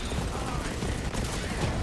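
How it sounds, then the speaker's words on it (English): An ion cannon fires in the Borderlands 3 video game, a dense, continuous crackling energy barrage that fills the short stretch at steady, loud level with no pauses. "Nothing is all that resistant to the ion cannon."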